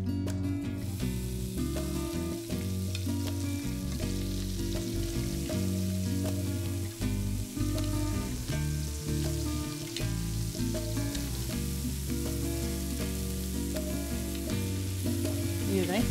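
Quail browning in a pan of butter and olive oil, sizzling and frying steadily and loudly throughout, with musical accompaniment running underneath.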